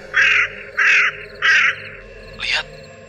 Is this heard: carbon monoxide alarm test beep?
no